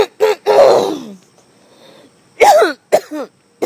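A few harsh coughs close by, a pause, then more short coughs and throat clearing.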